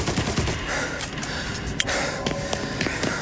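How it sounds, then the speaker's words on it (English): Gunshots in Mafia Definitive Edition: a busy, moderately loud stretch of scattered shots and fire that rises and falls in intensity, some reports sharper and closer than the others. "who's shooting?"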